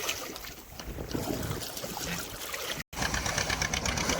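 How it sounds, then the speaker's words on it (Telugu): A boat engine drones at sea under steady wind and water noise, a continuous rumble with a brief dropout partway through. "ఇక్కడ వచ్చేసరికి మా వైపు బోట్ అయితే వస్తుంది."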